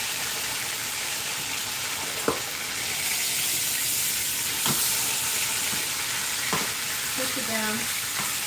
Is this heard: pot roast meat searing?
yes